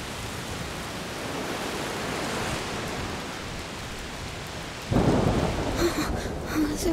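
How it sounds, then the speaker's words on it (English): Heavy steady rain pours in a stormy scene in the video game A Plague Tale: Requiem, with a louder rumbling thunder burst joining the downpour near the end. "The rain is getting worse."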